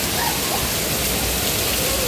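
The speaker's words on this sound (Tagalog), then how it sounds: "It's raining so hard." Heavy rain pours down in a dense, loud, unbroken hiss, close and constant with no pauses or other sounds standing out.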